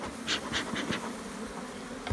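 Steady buzzing from a swarm of honeybees at a nuc hive, with a few louder passes drifting close early on, then a continuous hum.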